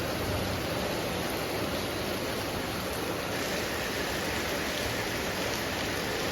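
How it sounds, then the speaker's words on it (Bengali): Heavy rain falls in a constant, dense roar of hiss that stays loud and unbroken throughout, with no voices. "প্রচণ্ড পরিমাণে বৃষ্টি হচ্ছে।"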